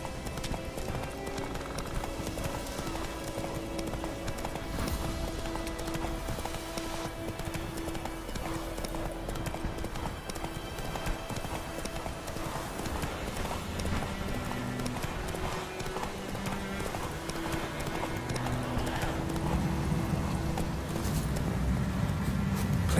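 Roach, the horse in The Witcher 3, gallops with quick steady hooves clip-clopping close by over game ambience and a low music drone, growing slightly louder toward the end.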